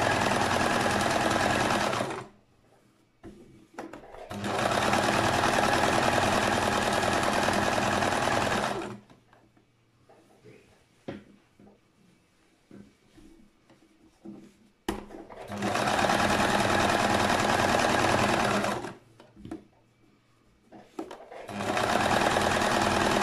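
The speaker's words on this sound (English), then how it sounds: "Now we are going to sew the next side." Sewing machine stitches a kimono jacket seam in long steady whirring runs, stopping and restarting three times with quiet handling noises between bursts.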